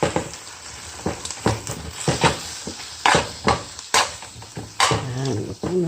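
Water spinach with abalone scallop sauce is stir-fried in a pan, its steady sizzle broken by repeated scraping and clanking strokes of a utensil against the metal, close and rhythmic.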